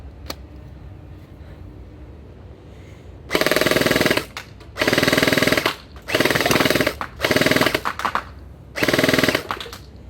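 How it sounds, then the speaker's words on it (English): Bing Feng MK18 gel blaster firing full-auto at a target about 15 meters off, five loud buzzing bursts of roughly a second each, separated by short pauses over a quiet background. "we'll be testing out the Feng MK18 gel blaster"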